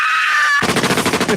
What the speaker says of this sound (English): Maybe even a couple of gunshots.